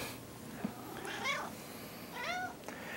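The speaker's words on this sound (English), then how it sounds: "I didn't start the video with a cat, but I end it with one" A house cat meows twice, each call a rising-then-falling plaintive cry, close and fairly quiet over soft indoor background hiss.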